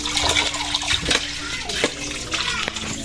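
Water splashes and runs steadily while small fish are rinsed again by hand in a home kitchen, a continuous close wash with light clinks and faint voices in the background.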